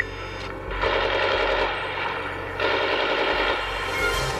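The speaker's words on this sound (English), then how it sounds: "He's shooting at everybody?" Automatic weapon gunfire in long sustained bursts, loud and close, two extended rattling volleys separated by a short pause, with no talking.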